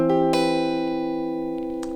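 A single guitar chord in drop 3 voicing is struck once and left to ring, sustaining clearly and fading slowly over two seconds with no voice.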